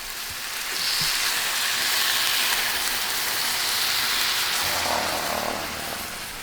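A ribeye steak sizzles in a frying pan over a gas flame, giving a loud, steady, hissing crackle that fills the whole stretch without letup.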